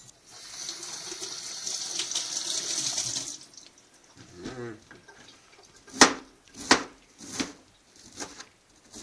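An onion is rinsed under a running kitchen tap, with a steady gush of water for about three seconds, then quieter handling and a few distinct knocks and clunks near the sink.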